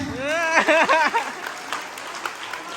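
A short burst of speech, then a small group of schoolchildren playing a recreation game claps lightly and unevenly, the patter fading into quiet room noise.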